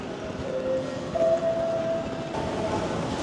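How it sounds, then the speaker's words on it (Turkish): Train noise at a station in a new country, a steady rumble and rail hiss with a sustained tonal whine rising in the middle, fairly close, with no talk over it. "Tren tren."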